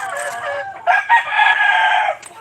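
A rooster crows loudly and close, one long drawn-out cock-a-doodle-doo following a shorter call, alone with no talk.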